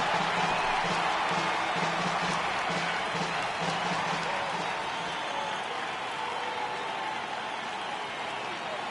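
Baseball crowd at a 2018 Eastern League All-Star Game applauding and cheering as the count runs full, a broad sustained roar with rhythmic clapping that stays loud throughout.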